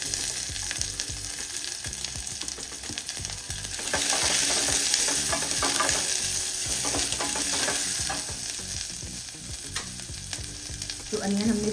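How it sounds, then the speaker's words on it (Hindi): Chopped onions fry in a hot pan, a steady loud sizzle running throughout with frequent scraping stirs from a utensil, growing somewhat fuller partway through. "अब इसमें हम ऐड कर देंगे अपने अनियन"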